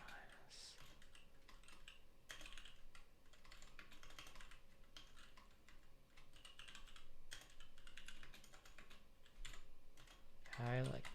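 Typing on a computer keyboard while coding, a quiet steady patter of key clicks with occasional louder strikes, close and soft, with a short burst of muffled voice near the end.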